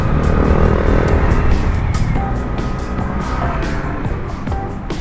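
A Yamaha Nmax V2 scooter with a 232cc bolt-on engine, ridden on the road to Baguio, gives a loud, steady engine drone close to the rider. Wind rush sits over the drone throughout.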